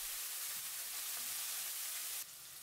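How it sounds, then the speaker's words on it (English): Chilli pepper and garlic paste frying in hot oil in a wok over high heat, a steady close hiss of sizzling that runs unbroken, dropping slightly quieter near the end. "When the oil is hot, add the paste of the peppers and garlic. Stir for 40 seconds."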